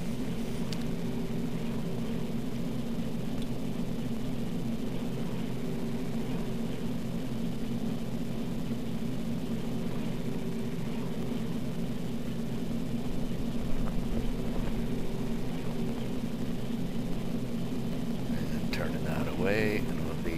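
A Douglas DC-3 propeller airliner flying around Mount Rushmore, a steady droning engine hum heard from inside the aircraft, continuous and even throughout, with faint talk over it.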